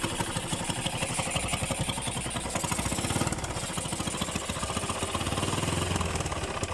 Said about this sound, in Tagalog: para siyang walang tambutso pakinggan